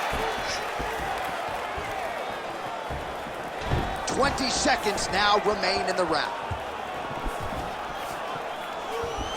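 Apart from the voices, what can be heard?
crowd reacting to a punch in UFC video game (PS5)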